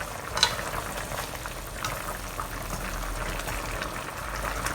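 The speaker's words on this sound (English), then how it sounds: "Now turn the heat up to high." Chicken stew sauce with light soy sauce and pepper bubbles steadily in a pot over high heat, a continuous soft simmering hiss with faint pops and no voices.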